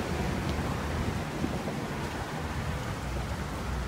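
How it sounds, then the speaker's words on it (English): Heavy rain pours steadily beneath a bridge, a dense, continuous hiss and rumble that fills the whole stretch at an even, close level, with no voices. "It's raining, it's pouring."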